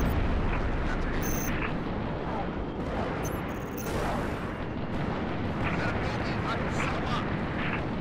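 Rocket explosions in Halo Reach, heavy rumbling booms layered over continuous loud battle noise, with game voices in the mix.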